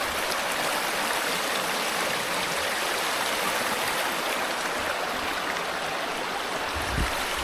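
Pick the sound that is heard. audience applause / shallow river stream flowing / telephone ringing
shallow river stream flowing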